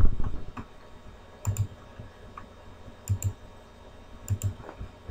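Keys are tapped on a computer keyboard in close, crisp clicks, arriving in small clusters of two or three strokes separated by short pauses, with faint low room noise between them and no talking.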